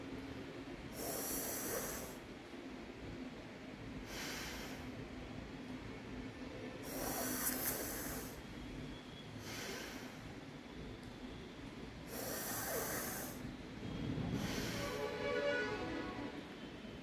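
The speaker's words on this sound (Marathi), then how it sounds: "जीभ दुमडायची आहे आणि त्याच्यातून श्वास घ्यायचा आहे आणि नाकानं श्वास सोडायचा आहे." Sheetali pranayama breathing, drawn in through a folded tongue and let out through the nose, heard up close as repeated hissing, airy breaths that swell and fade about every two to three seconds over a quiet background.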